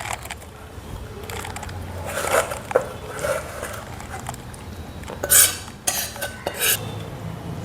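Finished methi chicken curry is poured out into a serving dish, with metal spoon scrapes, clinks and knocks of pots and utensils in uneven bursts, a couple of louder clanks standing out, close by.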